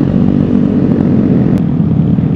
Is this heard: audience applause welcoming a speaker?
no